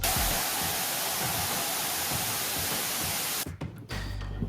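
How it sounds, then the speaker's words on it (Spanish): White noise test signal, a loud, flat, steady hiss filling the whole range, running continuously before cutting off abruptly near the end, followed by a brief low hum. "vamos a introducir acá como fuente este sonido que tenemos acá, que es el ruido blanco"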